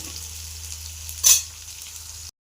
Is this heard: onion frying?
yes